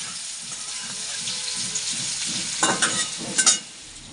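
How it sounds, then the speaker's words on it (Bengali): Cauliflower and potato pieces fry in hot oil with a steady soft sizzle, and a few louder scraping stirs near the end. "আমার ফুলকপি আর আলু ভাজা হয়ে গেছে"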